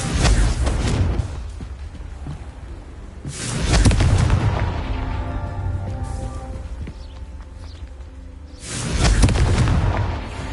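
Confringo fire-blast spell cast at rocks in the video game Hogwarts Legacy: three loud booming bursts with rumbling decay, spaced a few seconds apart, over soft background game ambience.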